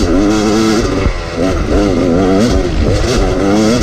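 A motorcycle ridden fast around a private track, its engine revving loud and close with rising and falling pitch through repeated throttle changes, no talk.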